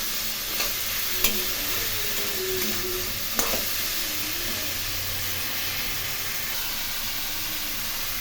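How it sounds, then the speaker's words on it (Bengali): Potatoes and cauliflower fry in a pan for a Bengali cauliflower curry, giving a steady, close sizzle with a few sharp clicks of stirring and no talking. "একটু ভেজে নিচ্ছি, ভেজে নিয়ে সামান্য পরিমাণ জল দিয়ে আলু এবং ফুলকপিগুলো সিদ্ধ করে নেব।"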